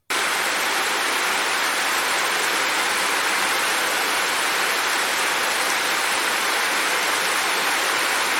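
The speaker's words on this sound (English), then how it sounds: "when it is pouring heavy rain" Heavy pouring rain makes a dense, steady hiss that holds at an even, loud level throughout, with no voices over it.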